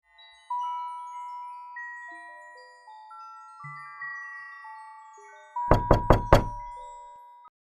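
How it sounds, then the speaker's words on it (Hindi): Three quick, sharp knocks rap on a door as a horror-story sound effect, loud and close, following a quiet sequence of eerie sustained chime-like tones. "अचानक टक टक टक दरवाजे पर दस्तक हुई।"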